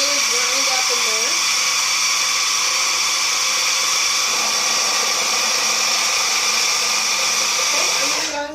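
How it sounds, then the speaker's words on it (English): A food processor grinds homemade pesto sauce with a loud, steady high-pitched motor whir that runs continuously and close, with a voice briefly heard at the start before the motor cuts off at the end. "we're going to go ahead and turn it on. Just let it really grind up in there."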